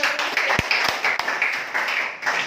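A few sharp hand claps ring out under murmuring voices in a classroom, scattered and brief rather than sustained applause.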